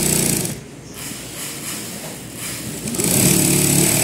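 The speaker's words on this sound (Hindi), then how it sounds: "इस तरीके से आपने ये ट्राउज़र की पूरी सिलाई लगा लेनी है जैसे मैं लगा रहा हूँ।" A sewing machine stitches a trouser seam, a loud fast mechanical whir running throughout, with slight dips and a stronger push toward the end.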